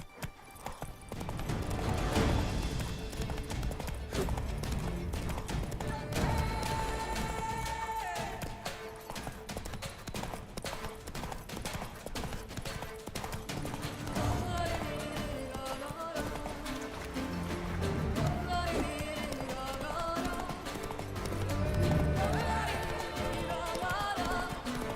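Roach the horse gallops in The Witcher 3, hooves clip-clopping in a steady, driving rhythm, close and loud for the whole stretch, with game music and occasional speech layered over the hoofbeats.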